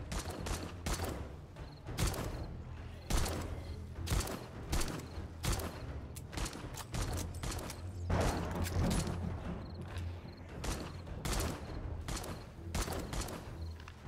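Homemade pistol fired repeatedly in the survival video game 7 Days to Die, sharp gunshots in a rapid, irregular stream over steady game ambience, with a few mechanical clicks and no speech.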